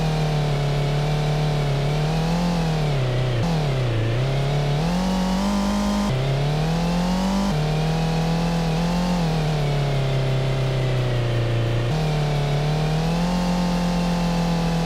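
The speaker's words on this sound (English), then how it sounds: "So the engine is doing what it's supposed to do now." A car engine in a self-made Godot video game revs in a loud synthetic drone, its pitch climbing and dropping in several sweeps with abrupt resets, alone and without talk.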